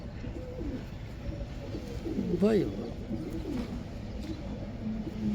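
Pigeons of an old breed coo in a brief, throaty rolling call from a nearby bird, amid steady background noise while someone speaks.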